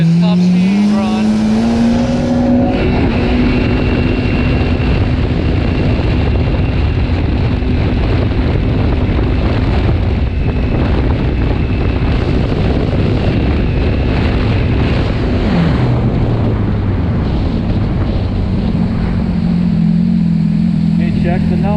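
An old Yamaha GP waverunner personal watercraft with a big production engine screams at full throttle on a top speed run, a loud steady high-revving drone with heavy wind buffeting throughout and pitch shifts near the start and end.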